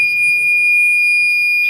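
A boat's bilge warning alarm horn sounds as one steady, piercing high-pitched electronic tone. It is loud and continuous throughout, with faint background noise underneath and no talking.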